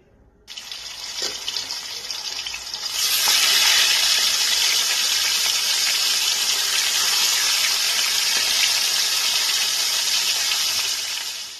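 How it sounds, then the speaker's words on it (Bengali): Hilsa fish frying in hot mustard oil in a kadai, a steady broadband hiss that starts softly and then swells into a loud, sustained sizzle lasting several seconds, with no talking. "এইবার ইলিশ মাছগুলোকে আমি হালকা করে দুই পাশ ভেজে নিচ্ছি"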